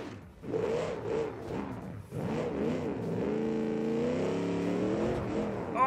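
Racing car engine held at full throttle in a video game, a loud steady roar with rising harmonic whine, broken by brief gear-change dips early before settling into a sustained high rev.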